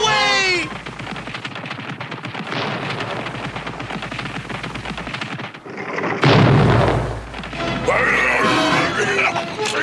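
Cartoon bombs fall and burst in a run of loud crashes and booms, followed by a heavy blast and rumbling debris, from the 1983 Dungeons & Dragons animated series; a whistling fall opens the sequence.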